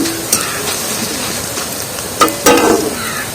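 Potato jhuri, thin shoestring strips, deep-frying in hot oil with a steady close sizzle and bubbling, plus a few sharp scraping stirs of a utensil in the pan.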